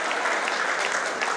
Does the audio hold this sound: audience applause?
yes